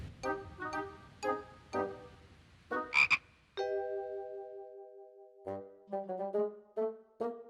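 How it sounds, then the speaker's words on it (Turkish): Cartoon frog croaking in a series of short, punchy croaks, followed by a sustained ringing tone and then rapid bubbly chirps, all loud and close with no speech over them. "bu bir kurbağa"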